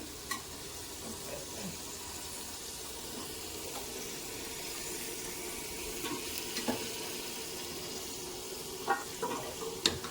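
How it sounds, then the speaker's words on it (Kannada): Chickpeas and green peas go into a hot oil tempering for a festival meal in a village kitchen, giving a quiet, steady sizzle broken by occasional light clinks of stirring. "ಈಗ ನೋಡಿ ಒಗ್ಗರಣೆಗೆ ಹಾಕೊತಾ ಇದ್ದೀನಿ"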